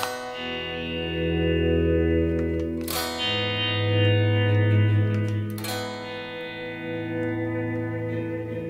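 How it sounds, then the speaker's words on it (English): Electric guitar volume swells made by striking a chord or note and sweeping the volume knob, with heavy delay on the amp; a few sustained chords rise gradually and ring into lush, echoing washes, with no speech. "I'm striking a chord or note first and then using my hand to just sweep the volume knob here on my guitar"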